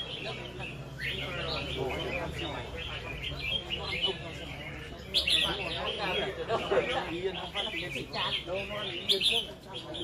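Chirps and calls from fighting birds at a bird-fighting contest arena in Phu Xuyen, Hanoi, repeated and busy under continuous crowd noise and a commentator talking throughout.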